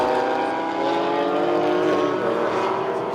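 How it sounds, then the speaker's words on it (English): Mercedes C63 race car engine roaring steadily at Sydney Motorsport Park during a circuit race, a loud, sustained high-revving note with harmonic whine and no speech. "Definitely a crowd favourite, the C63. Sounds fantastic"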